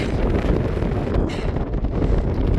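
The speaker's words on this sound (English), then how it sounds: "It's a little windy." Strong wind buffets the microphone on a mountain hiking trail in the Tetons, a loud, steady low roar with gusty rustling throughout and no speech.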